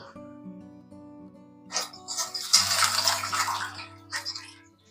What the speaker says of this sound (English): And then you just want to pour some water into that.